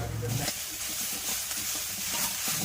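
Garlic paste dropped into a pan of browned onion paste, giving a steady close hiss and sizzle throughout, with a voice speaking over it briefly.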